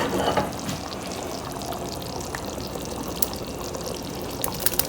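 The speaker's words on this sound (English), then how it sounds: "You drop all the meatballs in." Meatballs dropped into simmering tomato sauce for Sicilian spaghetti and meatballs, a dense steady bubbling and sizzling hiss with a few soft plops and splashes, close and unbroken.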